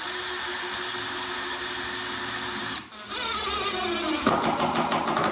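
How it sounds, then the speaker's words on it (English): A power drill whines steadily as it pilot drills holes in an oak veneer door, then stops briefly and starts again with a changing pitch and clicking under load. "I'm going to be pilot drilling all of my holes."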